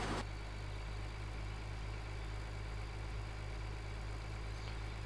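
A tractor engine in Farming Simulator 2013 idles steadily and loudly with a low, droning hum, after a brief sharp click at the start.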